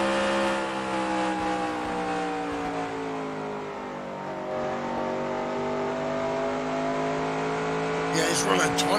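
Slim Jim Gailey's race car drones around the track at a steady, sustained engine pitch with small rises and falls, with a voice talking over it.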